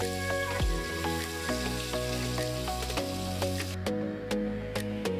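Masala and ginger paste fry in a pan, giving a steady crackling sizzle with popping spatters and a few clinks, close and continuous throughout.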